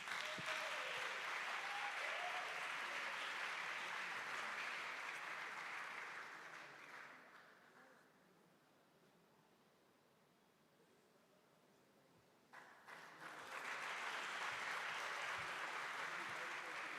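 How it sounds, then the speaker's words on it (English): Applause from an audience at a children's choir competition festival fills the space as a dense wash, fades almost to silence midway, then swells back just as loud. "If you want to clap, you can."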